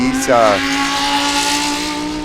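Spec Corvette race cars at Sebring sweep past on track, a loud engine note bending downward as they go by, with a commentator talking over it.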